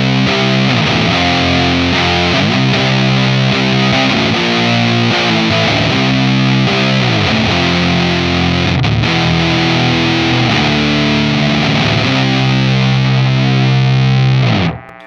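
An electric guitar plays through a Lantern Manufacturing Sycamore pedal with flat EQ, giving a loud, dense, saturated distorted tone with sustained chords and slides, continuous and close until it cuts off near the end.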